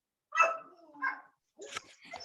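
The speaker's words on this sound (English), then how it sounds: "my dogs just started barking" A dog gives a few separate barks and yips with short gaps between them, moderately close but fairly quiet, heard at home during a video call.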